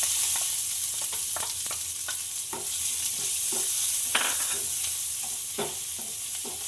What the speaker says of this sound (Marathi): आपण कांदा लालसर होईपर्यंत आपल्याला हा परतून घ्यायचा आहे।